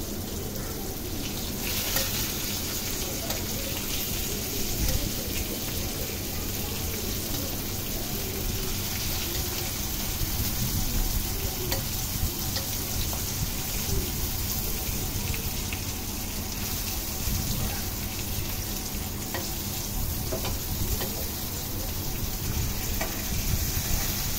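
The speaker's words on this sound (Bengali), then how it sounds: "দিয়ে দেওয়ার পরে ভালোভাবে এপিট ওপিট করে ভেজে নিতে হবে।" Spiny gourd (kakrol) fries in a pan for kakrol bharta, a continuous close sizzle of hot oil running throughout while the pieces are stirred and turned with soft scraping.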